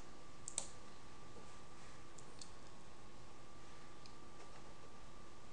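Single sharp computer mouse click near the start over a steady faint electrical hiss, followed by a few very soft ticks in an otherwise quiet room.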